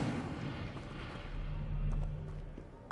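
Incendio fire spell cast in Hogwarts Legacy: a deep, rumbling fiery whoosh bursts out at the start and swells into a low booming roar that lingers and fades over about three seconds.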